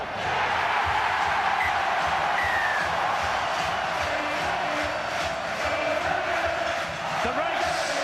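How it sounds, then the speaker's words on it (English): A large stadium crowd at a Warrington versus Wigan rugby league match roars and cheers continuously, loud and sustained, with a dense wash of voices and a brief swell near the end. "Listen to this crowd now."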